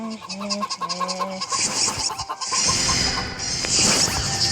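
Chickens cluck and squawk in a video game chicken map, starting as short pitched calls and turning into a denser, brighter flurry of clucking over game noise.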